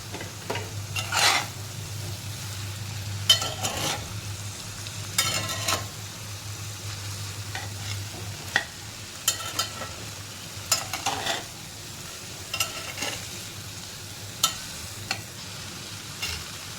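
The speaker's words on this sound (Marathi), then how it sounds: "भाजीला आपलं परतवून झाली." Finely chopped cowpea pods (chavali) are stir-fried dry in a pan, giving a low steady sizzle broken by scraping stirs and occasional utensil knocks, close and without talk.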